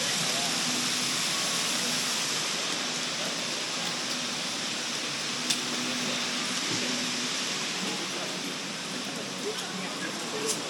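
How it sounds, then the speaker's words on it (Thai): Water flowing through a channel in the middle of Canal City mall in Fukuoka, a steady rushing wash heard throughout with indoor crowd murmur and a few faint clicks on top. "ห้างที่มีน้ำไหลผ่านกลางห้างเลย"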